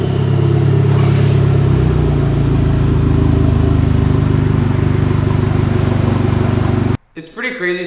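A car engine rumbles steadily at close range, revving slightly as it creeps forward into a garage, then cuts off abruptly near the end, followed by a brief voice.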